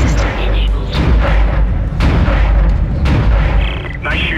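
Video-game automated targeting system firing, heavy booming shots at roughly one-second intervals over a rumbling background, with a voice talking in the clip.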